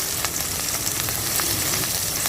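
Onions, curry leaves and green chillies fry in a pan for a fish curry, giving a continuous crackling sizzle with faint spatters and light stirring, close and unbroken by speech.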